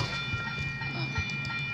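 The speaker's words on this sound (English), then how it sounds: "Now you see a train" A train in the video game Rails Unlimited rumbles along with a low rolling clatter and a steady hum, moderately loud and continuous, with no talk over it.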